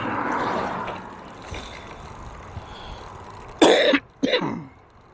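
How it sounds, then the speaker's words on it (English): Two sharp allergy coughs from a rider on a recumbent exercise trike, triggered by oak pollen, burst out near the end over a steady low hum of outdoor riding noise. "I got this, you hear me cough from now and then."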